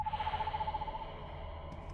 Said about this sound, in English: God damn it, stupid bird.